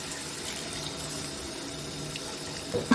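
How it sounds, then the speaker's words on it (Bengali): A little water pours into a pot of turmeric, chili, tomato, coriander and cumin for chicken curry, a steady close rushing stream that ends in a brief louder clatter. "একটু পানি দিব কষানোর জন্য।"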